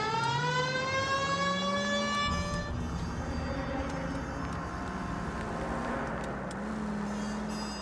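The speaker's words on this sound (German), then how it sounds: "Man kann tatsächlich diese Sirene anmachen." A 1940s police car siren in the video game L.A. Noire, wailing loud and close as its rising tone settles into a sustained howl over engine and street noise.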